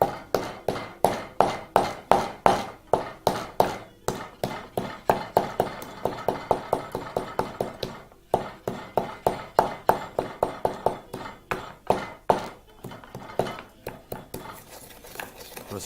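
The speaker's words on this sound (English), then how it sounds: "proceed to just pound our dried, or rather our whole spices, and very simply in a pestle and mortar, proceed to pound everything together" Whole dried spices are pounded in a pestle and mortar with a fast, regular series of sharp knocks, close and loud, briefly pausing midway before the thumping resumes.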